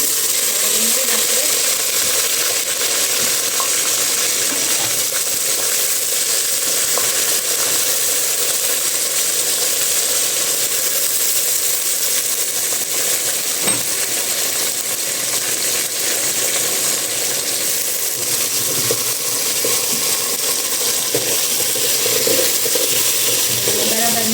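Prawns and onions sizzling in hot oil in a pan while cooking prawn biryani: a steady crackling fry that runs throughout, fairly loud and close, with no talking.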